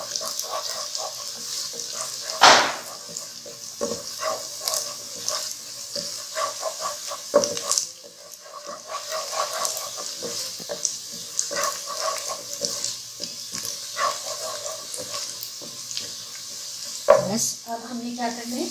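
Whole coriander seeds are roasted with onions in a pan, a continuous sizzle with repeated spatula scrapes and occasional sharper knocks against the metal over roughly nineteen seconds.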